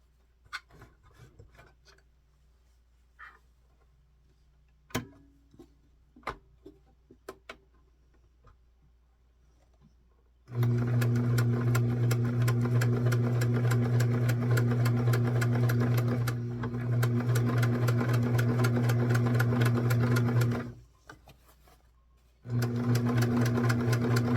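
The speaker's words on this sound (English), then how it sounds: "I'm going to now zigzag stitch up to the seam allowance" Sewing machine zigzag stitching along a seam of an 18-inch doll's 1904-style walking dress; soft handling taps, then a loud steady motor whir for about ten seconds, a short pause, and the machine starts again.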